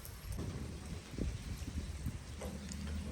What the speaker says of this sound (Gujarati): વરસાદ પણ આજ આખો દી પડવાનો છે